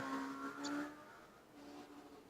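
A loud motorcycle passes along a nearby street, its engine a faint, fairly distant whine that rises and then fades, with no one talking.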